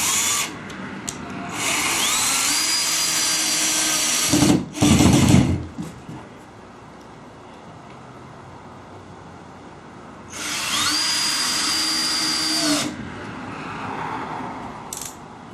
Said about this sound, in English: After you have it propped up, take your screws. I usually put two in the end.